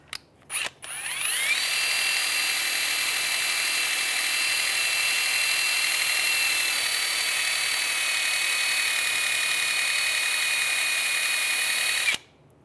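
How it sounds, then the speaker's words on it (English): Power-driven wire brush cleaning corrosion off rear parking brake parts on a 2006-2009 Mercedes-Benz E350, spinning up to a steady high whine for about ten seconds before cutting off, loud and close with no talk. "Just take a wire brush, just clean that up a little bit."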